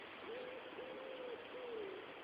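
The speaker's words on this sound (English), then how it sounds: "just the sound of the birds" Birds calling on a still, windless sunny morning in Cheshire, three drawn-out hooting coos in steady succession over a soft hiss of background ambience, moderately close and clear with no talking.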